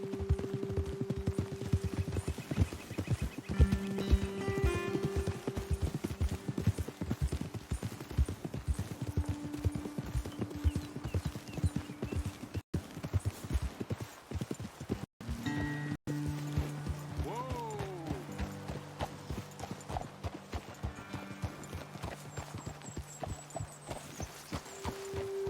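Horse hooves galloping in Red Dead Redemption 2: steady, rapid rhythmic thuds over terrain throughout, close and continuous, with a low hum and scattered game voices and tones layered over the beat.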